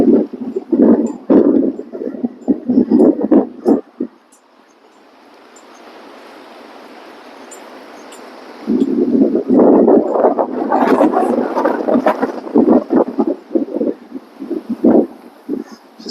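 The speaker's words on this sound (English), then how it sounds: "Wind's picking back up." Gusty wind buffeting the microphone outdoors on a windy day while riding a timid horse, loud rumbling bursts that ease off briefly into a softer steady whoosh before gusting hard again.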